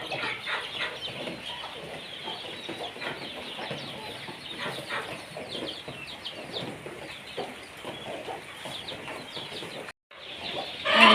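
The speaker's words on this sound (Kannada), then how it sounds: "ಈಗ ಮೊಟ್ಟೆ ಇಡ್ಲಿಕ್ಕೆ ರೆಡಿ ಆಗ್ತಾ ಉಂಟು ಇದು ಬೊಬ್ಬೆ ಹೊಡಿತಾ ಉಂಟು" Hens cluck and squawk continuously in a busy, noisy chorus before laying eggs, with a brief gap near the end before the loud calling resumes.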